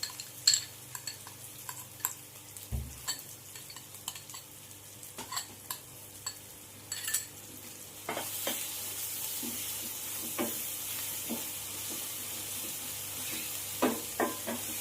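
Onions, sour yogurt and ground spices stir-fried over low heat for a prawn curry: a steady sizzle with spoon scrapes and clinks, growing louder and denser about halfway through, with no talking.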